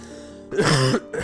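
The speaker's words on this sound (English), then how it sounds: "Sorry, I keep coughing because I've been talking for an hour." A single short, harsh throat-clearing cough from an adult who has been talking at length, close and fairly loud, lasting about half a second, with a brief softer follow-up at the end.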